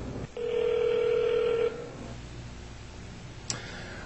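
A telephone call is placed: a steady electronic tone holds for over a second, then stops, leaving a quiet line hiss and a single brief click near the end.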